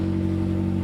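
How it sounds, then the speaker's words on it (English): A McLaren GT's turbocharged V8 engine holds a deep, steady, loud rumble in a brief burst, with no voices. "You want to hear how this V8 sounds? Listen to this."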